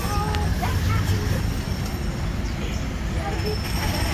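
Disneyland Railroad train in motion, a continuous low rumble and rattle of the carriage with faint wheel squeals, heard from on board under steady talking and crowd babble.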